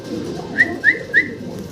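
Three short bright calls come in an even row from the pigeons at a pigeon sale, over a low murmur of background noise.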